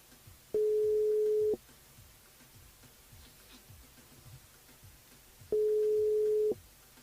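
Two long, steady tones sound at an even interval, like a phone ringing on the line during a live radio call-in show, loud and clear over a quiet background with no talking.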